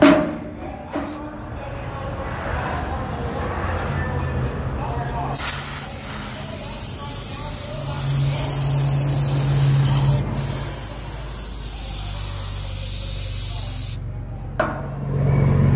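Brake cleaner sprays from an aerosol can onto a throttle body, a steady close hiss running for several seconds with brief breaks, while a person talks over it.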